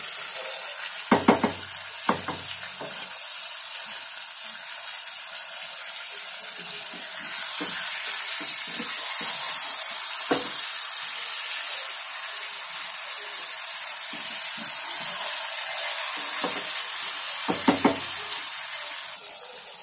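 Chicken stir-fries dhaba style in a pan with a steady loud hiss of sizzling, broken by a few clanking stirs and scrapes of the utensil.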